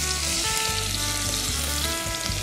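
Minced garlic frying in olive oil, a steady, loud sizzle with a constant crackling hiss throughout, no voices.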